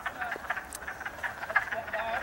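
A spring chorus of wood frogs gives rapid, overlapping duck-like clucks at a steady moderate level, several callers at once and no talking over them.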